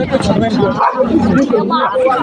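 A dog trapped inside a house in Ghansali, Uttarakhand, yelps and barks in short bursts, close by, while several people talk loudly over it.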